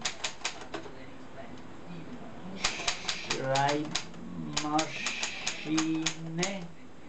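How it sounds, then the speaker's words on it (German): A vintage 1945 Triumph Norm 6 typewriter typed on in quick bursts of sharp key strikes, loud and close, with someone speaking over parts of it. "Schreibmaschine."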